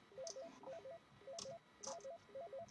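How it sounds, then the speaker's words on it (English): Phones ringing in the video game Nights Blights, a faint electronic warbling ring repeating in short bursts with brief gaps between, alone with no talk. "Both the phones are ringing."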